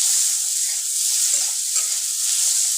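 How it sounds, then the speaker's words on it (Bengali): Egg potato curry with chili powder, turmeric and salt is stirred in a frying pan, giving a steady, close hiss of sizzling oil with faint scraping textures throughout. "এটাকে আমি ভালো করে মিশিয়ে নেব।"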